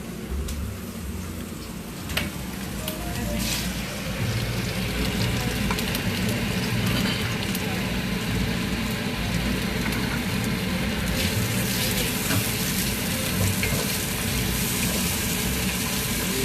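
Onion and garlic sautéing in a pan for beef with mushroom sauce, a steady dense sizzle and crackle running loud and continuous throughout with a low rumbling hum underneath and no talking.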